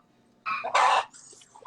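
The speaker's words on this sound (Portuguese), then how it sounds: "Acho que você está no meio de muitas, tipo, galinhas" Chickens clucking near someone on a remote call, a couple of loud squawking bursts followed by softer clucks nearby, with no talk at that moment.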